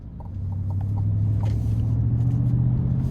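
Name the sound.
GMC Sierra 1500 Denali 6.2 V8 truck engine and exhaust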